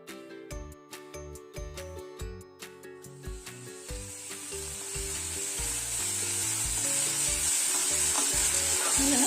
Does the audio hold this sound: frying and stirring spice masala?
yes